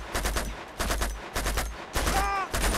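Rapid bursts of automatic gunfire from a fast-firing gun in Uncharted 2, four dense rattling volleys in quick succession, loud and close, with no talking over them.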